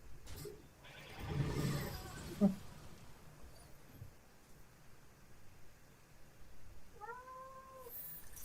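A short rustle and thump, then after a quiet stretch a cat gives a single brief meow, fairly close but soft.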